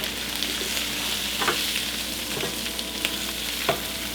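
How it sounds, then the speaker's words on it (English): Brussels sprouts frying and browning in rendered fat in a pan: a continuous close sizzle broken by a few soft stirring knocks and scrapes, with no voices. "So now, we add our sprouts, and let everything's rendered and browned."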